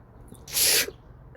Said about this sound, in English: Hold up, I can sneeze.